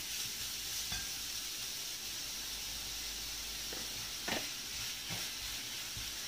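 Chopped onions sautéing with salt in a pan on the stove, giving a steady soft sizzle and hiss throughout, with a few faint scrapes of stirring near the end; quiet and close, no voices.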